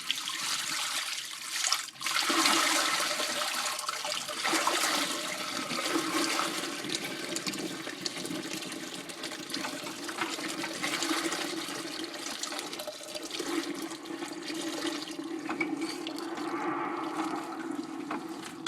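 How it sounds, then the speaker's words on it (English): Water running and pouring as a basin is drained and refilled for soaking vintage linens from a 1910 Edwardian cotton dress restoration, a steady close rush of flowing water with sloshing that lasts the whole stretch, with no talking. "I usually change the water when I'm soaking vintage linens several times"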